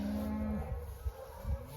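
Cattle low and moo on a winter stockpile pasture in January, a sustained low call followed by a couple of shorter, deeper moos, fairly close and alone.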